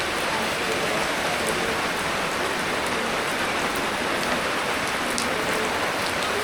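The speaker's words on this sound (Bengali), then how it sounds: "আবারও বৃষ্টি আসলো" Steady rain falls over a village on a wet morning, a dense, even hiss of drops pattering on surfaces that holds at the same level throughout with no voices over it.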